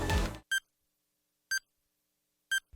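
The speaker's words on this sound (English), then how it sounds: "beeping started to sound" Three short electronic beeps from a countdown in the video game Danganronpa Hidden Destiny, each about a second apart, evenly spaced, following a brief burst of noisy sound at the start.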